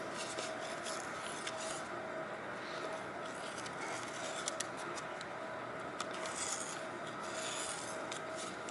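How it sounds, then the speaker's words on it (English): Hand deburring and chamfering of a fibrous material gives a continuous faint rasping, filing scrape with small irregular strokes, close and steady with no voices. "That's some really high quality chamfering you're doing there."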